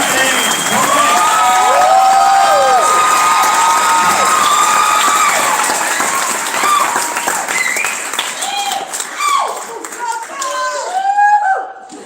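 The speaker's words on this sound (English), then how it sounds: "let's get that applause back up" A gala crowd applauding and cheering loudly, with clapping, whoops and children's shouts blending into a full roar that tapers into scattered cheers and voices toward the end.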